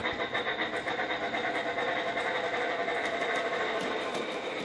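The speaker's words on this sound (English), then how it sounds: "thanks to the sound effects, sounds like a real train speeding up" A Thomas & Friends toy train's speeding-up sound effect: steady mechanical train rumble with rhythmic clattering, continuous and fairly loud, no voices.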